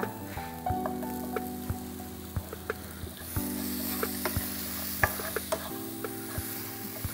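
Tomatoes sizzling in oil in a pan for Chettinad chicken, a soft steady sizzle under a droning hum, with scattered clicks and taps of a utensil against the pan, no voices.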